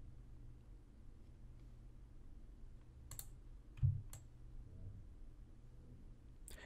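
Mouse clicks on a computer while dragging a task bar in project-scheduling software: a few sharp, quiet clicks spaced apart over a low steady hum, with no talking.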